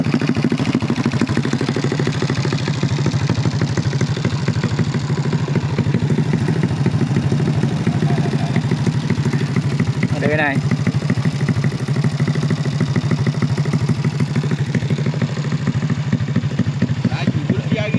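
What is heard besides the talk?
Abeja motorcycle ridden by a teacher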